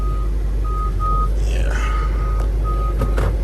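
A 2021 Hyundai Elantra's reversing alert sounds as a series of short, evenly spaced beeps while the car backs up, steady over low road and engine rumble.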